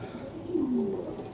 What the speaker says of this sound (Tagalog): Ayos, may bumalik tayong ibon mga parts.